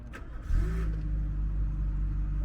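A 1991 VW Scirocco engine cranks and catches at close range, then settles into a loud, steady idle rumble with a slight rev as it starts.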